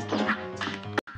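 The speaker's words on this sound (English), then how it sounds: "he leans back and honks before the attack" A clown boss in the video game Cuphead honks before his dash attack, with a cartoonish quacking honk followed by a sharp impact crack and a sudden cutoff, loud and close amid game music.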